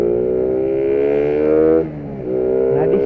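Raider 150 motorcycle engine revving hard in a street race against an Aerox 155, a loud steady high-pitched whine that briefly drops off before climbing again, with no talk.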